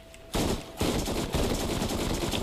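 Gunfire in the Borderlands video game, with loud broadband bursts of shots starting abruptly and continuing over a sustained noisy bed, heard alone with no talking.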